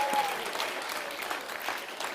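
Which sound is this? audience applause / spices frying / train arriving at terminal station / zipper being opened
audience applause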